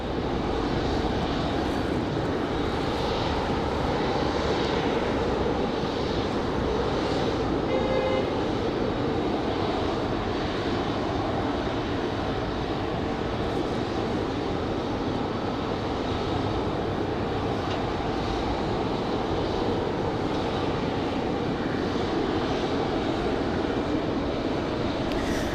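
An Endeavor Air jet airliner, flight 5219 out of JFK, roars steadily and loudly for the whole stretch, a broad sustained engine noise with no talk over it.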